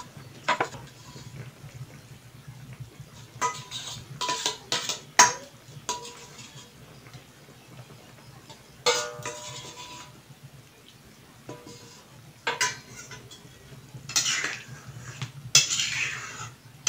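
A spoon scrapes and clinks against a metal pot while stirring a curry of potato, plantain, parshe fish and prawns, in scattered bursts of knocks and rattles separated by quiet pauses, with no talk.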